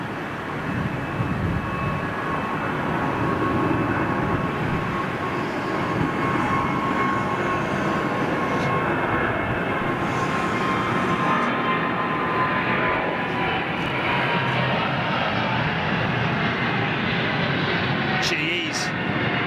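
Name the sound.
jet airliner with GE90 engines passing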